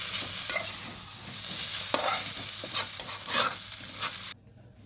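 Food being stirred and mixed with tomato ketchup in a frying pan, a steady close sizzle broken by scraping spatula strokes, then an abrupt cut to near silence at the end.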